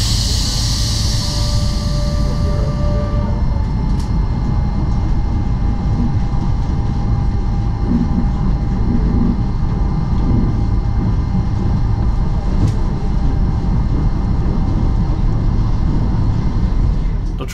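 A Stadler GTW rack train on meter-gauge track pulls out of Montserrat station, heard from inside as a steady low rumble and rolling noise, with a brief whine at the start and faint clicks along the way.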